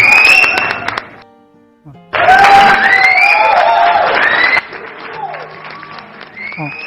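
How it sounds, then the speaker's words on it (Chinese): A Senma X70 phone livestreaming sound card plays its applause-and-laughter effect: a loud burst of clapping, cheering and whoops that cuts out briefly, then returns at full volume before easing into quieter effect tones. "然后我们按下这个掌声笑声了哈"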